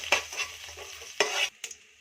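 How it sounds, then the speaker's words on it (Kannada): Crushed garlic frying in a pan for a green gram and palak dal, with a steady background sizzle broken by several sharp spatula scrapes and stirs, two of them louder, close and with no talking. "ಸ್ವಲ್ಪ ಫ್ರೈ ಆಗಬೇಕು ಬೆಳ್ಳುಳ್ಳಿ."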